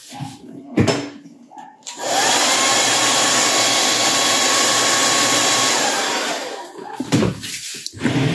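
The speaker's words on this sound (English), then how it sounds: "This is the hair dryer real quick." A hair dryer blasts a freshly mixed pink paint wash, a loud, steady close-up whoosh lasting about five seconds, with brief tabletop clatter before it starts and after it cuts off.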